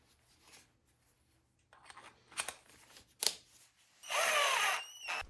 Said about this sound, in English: Let's see the drill at work.